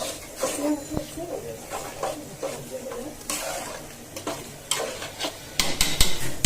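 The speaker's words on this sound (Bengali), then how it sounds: "তো মশলাটা এখন আমি ভালো করে কষাবো, একটু লবণ দিব।" Masala spice paste for biryani stirred and sautéing in a pan, a soft sizzle with scraping spoon strokes and a few sharp clinks of metal on metal, while people talk nearby.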